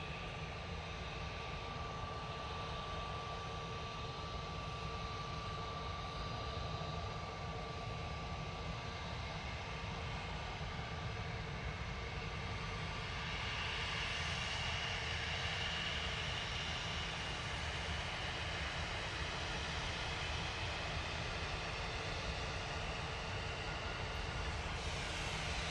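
Ryanair airliner arriving at Manchester Airport, a steady broadband jet roar with a constant tonal whine that swells slightly toward the middle and holds throughout, with no voices.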